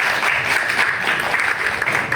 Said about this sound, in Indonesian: tepuk tangan buat Mbak